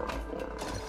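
A lion roars in the video game It Takes Two, one short, rumbling growl that is full and close, with no talk over it.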